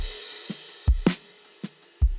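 A programmed drum pattern for a pop ballad plays sparse, punchy kicks and snare hits with a bright cymbal crash, clean and close with no voices.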